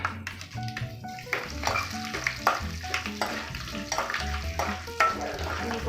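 Dried red chilli pieces and garlic fry in hot oil for a Konaseema-style broad beans fry, with a steady sizzle, clinks and scrapes of a stirring spoon, and a faint tonal hum under it.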